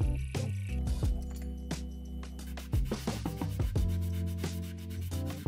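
A small cut-off gear blank is ground and filed down to size for a music box made from a knife blade. The scraping and rasping strokes come irregularly over a machine hum, up close.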